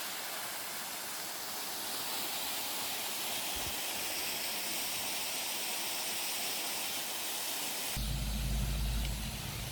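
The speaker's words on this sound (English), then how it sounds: "Bon Ami waterfall." The Bon Ami waterfall at a North Carolina feldspar mine rushes in a dense, unbroken roar, close and steady, with a deeper rumble swelling in near the end.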